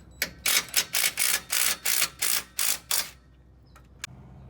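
Loosening U-bolts on the axle of a Toyota Tacoma produces about nine rapid, evenly spaced rasping mechanical bursts close up, followed by near quiet and one faint click.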